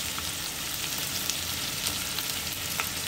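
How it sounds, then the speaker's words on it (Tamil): Mint, coriander, green chilli and ginger sauté in a pan with a dense, continuous crackling sizzle at even loudness throughout, no voices. "இஞ்சி போட்டு நல்லா வதக்குவோம்."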